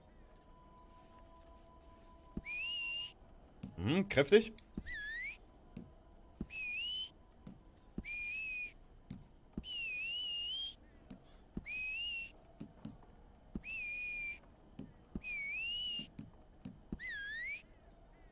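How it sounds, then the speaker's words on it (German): Character whistle options in the video game Red Dead Online, played as a series of about ten short rising whistles at a steady rhythm, bright and clear. A brief louder burst comes early, and a low hum runs under it. "Was können wir denn für Pfeifen einstellen?"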